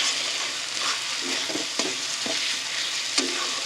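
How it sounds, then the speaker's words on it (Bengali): Dhaba style chicken tadka fried and stirred in a pan, a constant hiss of sizzling oil with intermittent scraping and tapping of a spoon, close and clear, no voices. "দিয়ে খুব ভালো করে কষিয়ে নেব। খুব ভালো করে কষিয়ে নিতে হবে।"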